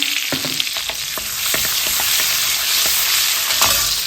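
Cumin seeds crackle and sizzle in hot oil for stuffed brinjal, a dense continuous hiss broken by scattered sharp pops and a few spoon clinks, close and loud with no voices.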